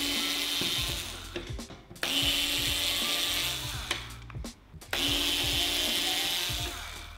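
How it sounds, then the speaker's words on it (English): A small screwdriver backs out the four screws holding the PCB inside a Sonoff TH Origin housing: steady close ratcheting, clicking turns in three long runs with brief pauses between them, and no voice. "Remove the 4 screws holding the PCB in place"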